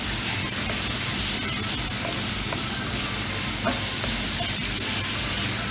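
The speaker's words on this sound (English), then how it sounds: "I'm just going to cook that chopped garlic and make sure that gets in there really good with the onions" Chopped garlic and onions sautéing in a pan for Southern-style smothered pork chops, a steady close sizzle and hiss running unbroken throughout with a few faint clicks, no talking.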